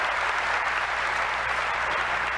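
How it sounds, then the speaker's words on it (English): A commencement crowd of nursing, health sciences and management graduates applauds their parents and grandparents, a continuous, dense wash of clapping from many hands throughout. "Clap for them. Don't hold it back."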